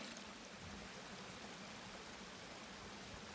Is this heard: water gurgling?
yes